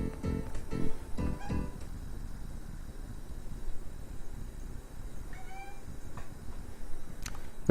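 A cat meows and makes odd chirping, chattering noises while staring at the ceiling, with several quick calls early on, then sparse bursts, fairly close but not loud against a noisy background.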